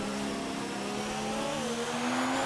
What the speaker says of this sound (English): you can hear the car groaning as the revs increase